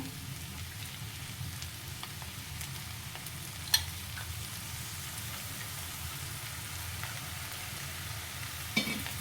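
Dhaba-style anda bhurji, freshly topped with coriander, crackles softly and steadily in a pan while being stirred, with a couple of sharp scraping clicks over the continuous low sizzle.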